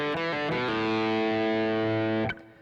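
An electric guitar with a distorted, effects-laden tone plays a solo phrase in E pentatonic first position: a few quick picked notes lead into a long sustained bent note that rings out, then cuts off abruptly near the end.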